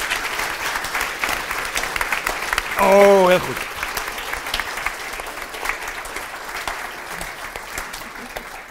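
Audience applause at a public lecture, greeting the Dutch National Ombudsman; steady clapping fills the whole stretch at moderate level under a brief spoken remark, with a short louder tonal burst near the start.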